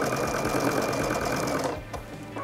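A sewing machine stitches quilt fabric with a fast, steady mechanical whir close by, then slows and stops near the end before briefly starting again.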